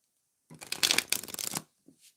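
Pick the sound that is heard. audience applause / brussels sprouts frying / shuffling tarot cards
shuffling tarot cards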